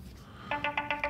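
A mobile phone ringtone sounds in about five short, evenly spaced electronic tone bursts. It is fairly faint and starts midway through the brief moment.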